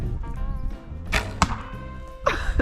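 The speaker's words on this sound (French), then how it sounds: "la première flèche a été mise dans la cible" Arrows loosed in an archery contest strike the target in three sharp, close impacts, the last two separated by a short pause, alone over a steady background.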